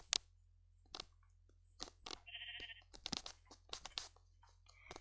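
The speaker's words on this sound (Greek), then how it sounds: "Να το πρόβατο." A sheep in the video game Minecraft gives a short, wavering bleat partway through, set among scattered clicks and taps of gameplay.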